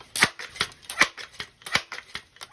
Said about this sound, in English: So I already cocked it, so we're gonna go 8 pumps.